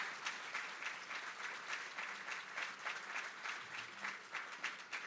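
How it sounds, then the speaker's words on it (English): Round of applause at the 2024 inauguration ceremony of the Milwaukee County Executive: dense, even clapping from a large audience that continues throughout, heard faint and distant. "Can we give them a round of applause?"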